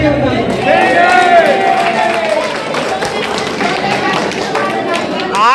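Clapping from a crowd at an MLA's inauguration of a wedding hall, a dense steady patter of many hands lasting throughout, with murmured voices and a few raised tones mixed in.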